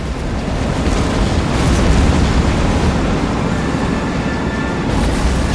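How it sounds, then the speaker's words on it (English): Explosion in the video game The Saboteur roars as a loud, sustained, broadband rumble with crackling debris throughout, no speech. "will not survive the explosion"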